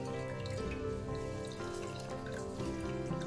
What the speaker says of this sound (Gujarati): આને આ રીતે આટી ચડાવતા જશું એટલે બધું પાણી એકદમ સરસ રીતે નીતરી જશે.